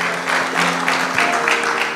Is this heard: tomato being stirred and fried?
no